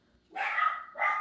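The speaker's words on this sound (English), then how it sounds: "I just feel that my dog is about to bark" A pet dog barks twice, fairly close and loud, in a home crafting space: a longer bark, then a shorter one after a brief gap.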